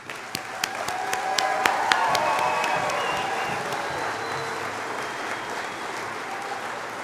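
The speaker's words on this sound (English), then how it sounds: "join me in one last round of applause for the graduates" A hall full of people at a graduation ceremony gives the graduates a long, steady round of applause, dense clapping that starts with a few sharp claps and holds evenly throughout.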